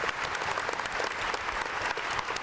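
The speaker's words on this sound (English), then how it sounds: "Clap your hands." A crowd claps in steady, dense applause at a school gathering honoring parents and children, loud and continuous across the whole stretch with no voices standing out.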